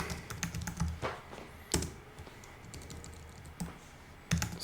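Typing on a computer keyboard, a run of sharp close clicks in uneven bursts with a few louder keystrokes standing out, no voices over it.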